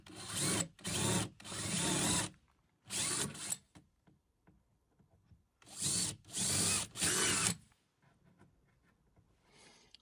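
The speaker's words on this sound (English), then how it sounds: "and then we'll drill the holes." Several loud bursts of a power drill whirring into material while drilling holes to fit mudguard reinforcement brackets on a Land Rover Defender, in two groups of three or four separated by quieter pauses, no talking.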